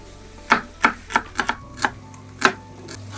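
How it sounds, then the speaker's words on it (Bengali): Onions and tomatoes are cut on a board with a knife, about ten sharp, distinct chops in an uneven rhythm, close and clear against a quiet background with no talking. "পেঁয়াজ আর টমেটোগুলো একটু কেটে নিই"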